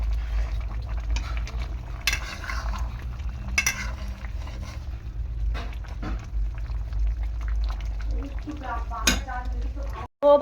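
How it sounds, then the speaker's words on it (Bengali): Small fish curry with green banana and potato simmering in a pan, a soft steady bubbling and sizzle with occasional stirring clinks, close and moderately quiet, with little talk. "আর মাছের ঝোলটা ভালো করে টকবক করে ফুটবে"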